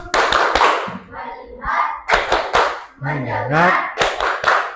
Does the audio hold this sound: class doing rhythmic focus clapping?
yes